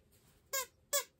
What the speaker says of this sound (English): It squeaks. Is that a dog toy?